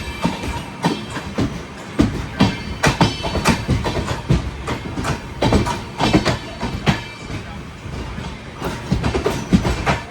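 Netravati Express sleeper train rolling along the line near Thane, loud repeated clickety-clack of wheels over rail joints in an irregular rhythm over a steady rumble, heard from on board.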